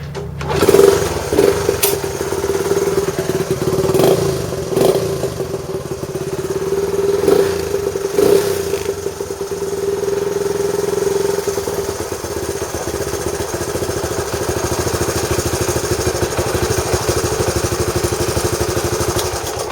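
A yellow Honda Trail 90 motorcycle under repair is kick-started with the choke off and throttle slightly open, a few clattering kicks before the engine catches and settles into a loud, steady close-up idle.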